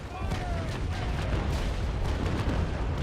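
Naval Action ship cannons roaring in a broadside, a dense, continuous rumble of overlapping booms heavy in the low end, held at steady loudness throughout with no clear gaps between shots.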